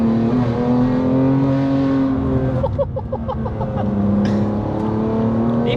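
A 650bhp BMW M2 Competition's engine hums steadily and close, with light throttle blips producing rising turbo spool and a brief flutter midway before settling back to a smooth drone.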